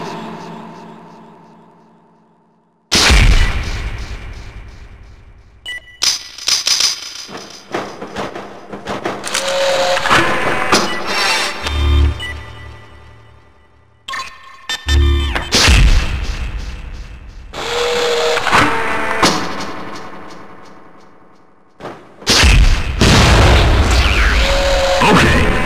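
Explosions on an explosives training range in the PC shooter Gunman Chronicles, several loud booming blasts with ringing, rumbling decays and short silent gaps between bursts.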